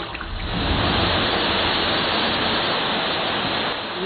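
Vigorous fizzing and bubbling as vinegar meets baking soda and Coke in a dirty kitchen sink, a dense steady hiss that swells after a quiet start and holds loud and close throughout.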